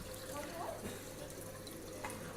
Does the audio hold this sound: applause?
no